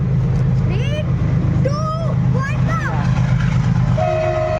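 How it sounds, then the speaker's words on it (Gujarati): A train rumbles past steadily with loud low-frequency noise, while voices call out and whistle-like tones rise and fall above it. "ભાઈ ટ્રેન જાય છે ટ્રેન જાય છે જો"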